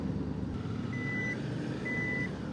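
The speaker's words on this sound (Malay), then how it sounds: "Alah, TPMS aku bunyi lah." A motorcycle's TPMS tyre pressure alarm beeps twice, warning of an overinflated front tyre, as short high tones spaced about a second apart over a steady background rumble.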